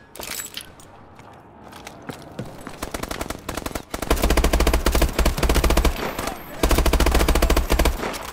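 Rapid automatic gunfire in the video game Call of Duty Advanced Warfare, loud sustained bursts of machine-gun fire with short pauses, close and dominant over a quieter start.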